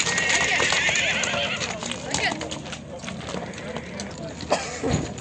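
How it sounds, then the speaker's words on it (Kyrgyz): Horse at a Sokuluk livestock market near Bishkek, with hoof clops and a neigh amid busy market noise while people talk nearby throughout. "Ат мынакей."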